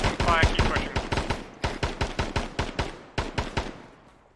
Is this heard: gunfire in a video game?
yes